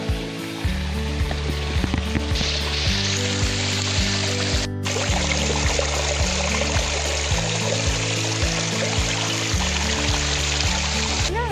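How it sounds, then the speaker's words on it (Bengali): A small waterfall near Purulia flowing continuously, a loud steady rush of water with no talk over it. "ঝর্ণার একটা আওয়াজ হচ্ছে"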